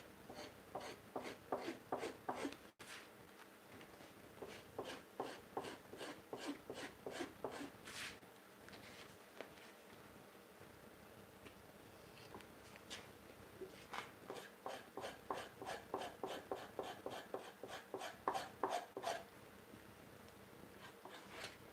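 A knife scrapes buckskin hide over a wooden beam in a workshop, a quick rhythmic series of rasping strokes in bursts with short pauses, close and fairly faint, no voices.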